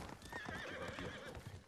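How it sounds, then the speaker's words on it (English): A horse's hooves clip-clop at a quick pace while it lets out a high, wavering whinny, game audio from Ghost of Tsushima. "Where's my trusty horse, Nobu, when I need him?"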